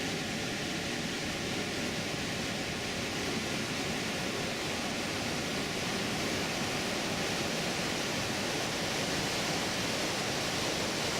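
Montmorency Falls roars as a steady, dense broadband rush of falling water, loud and unbroken throughout, with no voices.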